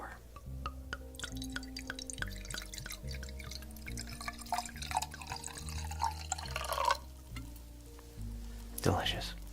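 Grape drink is poured into a glass during a restaurant roleplay: a soft, close trickle and splash of liquid filling the glass, quiet and delicate, with a voice speaking briefly near the end.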